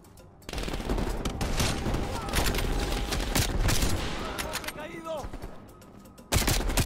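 Rapid gunfire from Call of Duty: Black Ops Cold War, dense bursts of close shots crackling almost continuously, a brief lull, then a sharp loud volley at the end.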